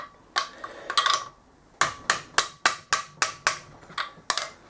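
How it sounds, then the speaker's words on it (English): Sharp metallic hammer strikes on a ratchet ring out during a BMW F650GS motorcycle engine top-end strip-down, a few scattered blows then a steady run of about eight evenly spaced hits, close and loud. "You should never hit a ratchet with a hammer."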